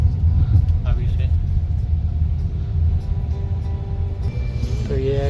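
Busy street traffic in Hanoi rumbles along in a steady low drone of engines and tires, with a brief horn-like tone near the end and a voice speaking over it.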